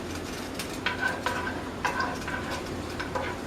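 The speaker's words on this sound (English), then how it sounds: "now your garlic's starting to sizzle and starting to brown." Light sizzling of garlic browning in olive oil in a pan, with a few clinks of a utensil stirring, steady and close, without any talking.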